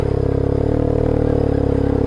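BMW R1150R, a big heavy road motorcycle, rides through sand with little engine protection, its boxer engine giving a steady, loud, close drone with low rumble and faint clatter, no voices.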